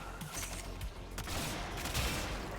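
A heavily modded Tombfinger sidearm fires in Warframe, sending off a quick burst of sharp, overlapping shots against enemies, moderately loud with no talk.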